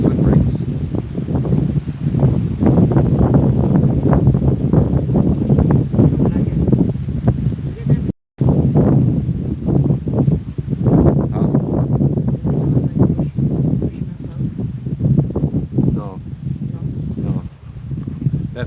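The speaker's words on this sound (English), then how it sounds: "Let's see what this wind brings." Strong gusty wind roars across the microphone and through trees at Paradise Park, a loud continuous rumbling buffet with swelling and fading gusts and a brief dropout midway.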